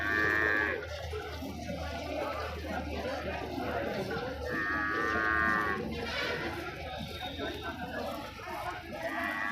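Murrah buffalo at a livestock market in Ranipokhar low and moo repeatedly, with loud calls standing out over constant crowd chatter and someone talking nearby.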